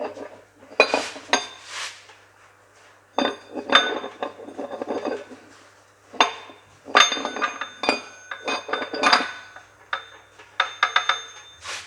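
Metal gear clinking and sliding onto the greased input shaft of a Massey Ferguson 135 six-speed tractor gearbox, a series of sharp close metallic knocks and rattles in separate bursts with quiet gaps between them.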